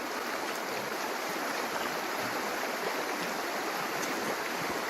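Water flowing steadily in a creek during a field test of a Muddy Miner Saruca sluice, a continuous broadband rush close to the microphone with no talking.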